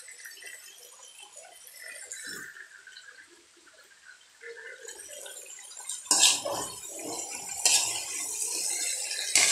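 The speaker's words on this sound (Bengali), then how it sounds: "এই যে এভাবে কষিয়ে যতক্ষণে নিচে না লেগে যাবে ততক্ষণ আমি নাড়তে থাকবো।" Potato and drumstick curry being stirred and fried in a pan, with soft scraping and clinking of a spoon against the metal, quiet at first and then louder with bursts of stirring toward the end.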